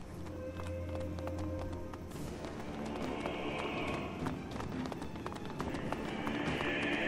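Rapid rhythmic hoofbeats of a galloping horse in the video game Masquerada: Songs and Shadows, steady and close, with a brief sharper burst partway through and no talking.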